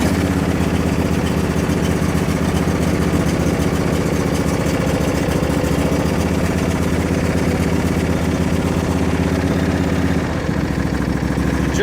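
A 2004 Troy-Bilt 809H garden tractor riding mower engine running at about mid throttle, a loud, close, steady idle with a constant low throb that holds evenly throughout, no voices.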